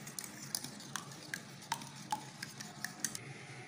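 Cheesy chicken omelette mixture mashed and stirred in a bowl, with a dozen or so sharp utensil clicks and scrapes in an uneven rhythm, close and fairly quiet, no talking.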